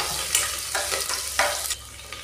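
Mustard seeds and garlic paste fry with curry leaves in hot oil, giving a close, steady sizzle broken by several sharp bursts of crackling as the mixture is stirred.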